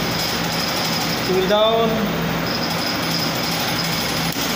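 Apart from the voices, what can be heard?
air compressor starting and running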